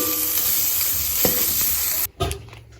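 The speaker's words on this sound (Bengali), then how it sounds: "ঢেঁকি শাক আর আলু দিয়ে ভাজা" Fiddlehead fern greens and potato stir-fry in a pan, a loud close sizzle with stirring scrapes that breaks off near the end, followed by a couple of clanks.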